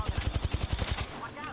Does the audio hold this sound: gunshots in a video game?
yes